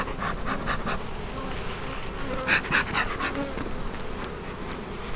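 Honey bees buzz steadily around an opened hive during an inspection in a new bee yard, a dense continuous hum close by with a few louder passes of individual bees near the ear.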